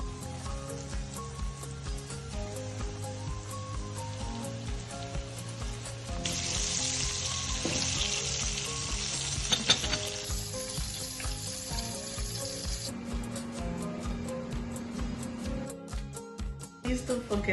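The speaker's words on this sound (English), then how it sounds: "In the heated oil, add it, then fry it till it's golden brown." Scotch eggs deep-frying in a deep pan of hot oil, a steady close bubbling sizzle that swells in intensity partway through, with faint background music and no talking.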